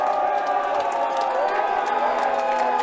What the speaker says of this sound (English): The crowd loving that one